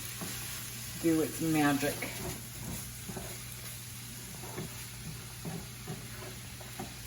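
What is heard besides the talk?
stirring sizzling egg roll mix with vinegar in pan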